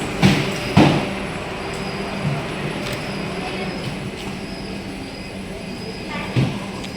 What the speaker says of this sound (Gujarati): આ છે વંદે ભારત, જે ઇન્ડિયન પહેલા નંબરની ટ્રેન